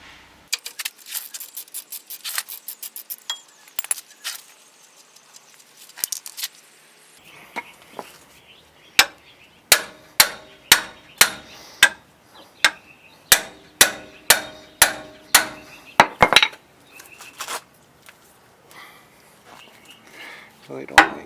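Sharp metal hammer strikes ring out while a cotter pin is knocked from an F150 control arm, scattered at first, then a rapid, regular series of loud close blows.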